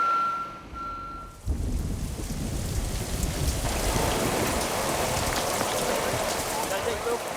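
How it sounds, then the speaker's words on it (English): Heavy rain pours outside a tent, a dense steady roar that swells in after a quieter opening with a faint tone, continuing loud and unbroken. "it's raining cats and dogs outside"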